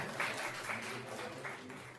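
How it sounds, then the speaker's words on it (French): An audience at a magic show in Mons applauds a volunteer, a soft, steady wash of many hands clapping, faint and distant, with a few louder bursts. "On peut l'applaudir s'il vous plaît"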